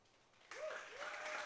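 An audience at a civic startup weekend event starts applauding to welcome a speaker: after a quiet moment, dense clapping breaks out suddenly and holds steady, with a brief whoop or call rising over it.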